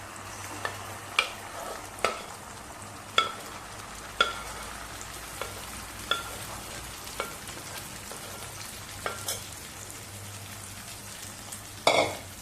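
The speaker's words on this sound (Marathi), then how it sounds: "आता आपण गोठून घेतलेली भाजी घालूया" Chopped chakvat greens sizzle in a pan of hot tempering with ground spice paste, a steady low hiss broken by regular clicks and scrapes of a spoon stirring every second or so, ending in a louder clatter; no talking.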